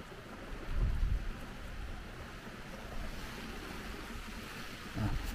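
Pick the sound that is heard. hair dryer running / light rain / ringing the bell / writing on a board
light rain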